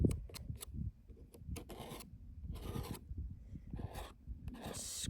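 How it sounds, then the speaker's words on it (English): Watercolor paint being scraped on paper outdoors while painting a desert mountain landscape, a series of short, sharp rasping strokes up close, some quick and bunched, others longer and broader, with no voices. "because I notice when I scrape, it really adds some texture."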